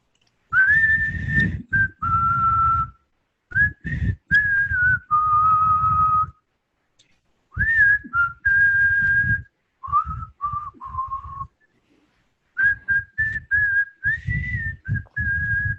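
A person whistles a song melody in clear, sustained phrases with short pauses between them, close and loud with breathy undertones.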